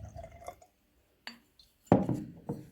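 Sodium carbonate solution is poured into a glass in a few short splashing and clinking bursts, close and fairly quiet, with brief gaps of near silence between them.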